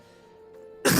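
A single loud, harsh throat-clearing cough bursts out close to the microphone near the end, after a stretch of quiet room hum.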